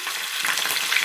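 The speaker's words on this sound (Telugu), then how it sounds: "చూడండి, మంచిగా అయితే వేగుతుంది." Cumin seeds fry in hot oil in a pan, giving a brief, close, steady sizzle with tiny crackles throughout.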